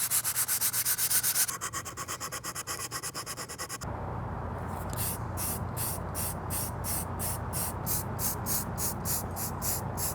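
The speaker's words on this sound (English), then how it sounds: "I'll know after I sand this and then hit it with primer." A wooden dagger coated in sanding sealer is sanded by hand in steady back-and-forth rubbing strokes, close and fairly loud, with rhythmic rasping bursts of even tempo.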